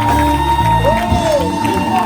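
Worshippers in a church cheer and shout joyfully, a dense continuous crowd roar with scattered whoops and a prominent voice rising above the congregation.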